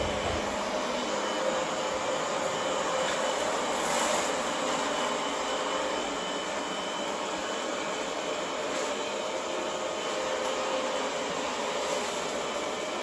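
A Xiaomi Mi Robot vacuum cleaner runs with a steady, even whirring hiss, moderately loud and continuous throughout, with no voices.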